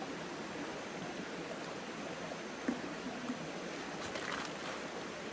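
Water in a stream rushes in a steady, faint wash along a backpacking trail near El Valle de Antón, Panama, while a water canister is dipped in to fill, with a brief splash partway through.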